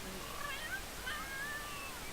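A ginger-brown cat gives a few faint, thin meows over low background hiss, short rising and falling calls spaced about half a second apart.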